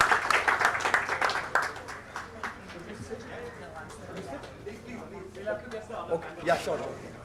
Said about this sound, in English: Another round of applause for us.